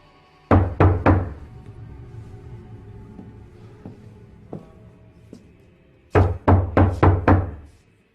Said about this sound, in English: This botched romantic getaway gets interrupted by a knock at the door.